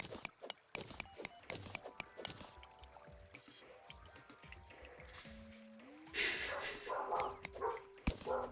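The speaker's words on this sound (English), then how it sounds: "There goes the dogs barking." Dogs bark in repeated sharp bursts, some yips and whimpery tones among them, fairly close and loud, with a tonal whine sliding upward near the end and a dense burst of noise after it.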